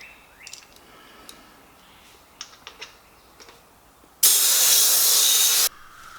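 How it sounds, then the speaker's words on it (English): Air from a pump hissing into a mountain bike tire on a Giant Trance 27.5 with the valve core removed, a loud, sudden rush lasting about a second and a half after a few faint clicks and taps. "we'll just pop air in there without the valve core and get the beads to flare out and get seated in the channel"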